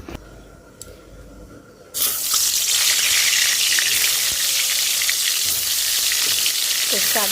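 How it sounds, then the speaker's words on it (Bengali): Eggplant leaves coated in turmeric and salt hit hot oil with a sudden loud sizzle, settling into a steady, dense frying hiss that continues close up for several seconds. "তেল দিয়ে দিছি আর এই যে বেগুনের শাকটা মাখায় রাখছি হলুদ লবণ দিয়ে"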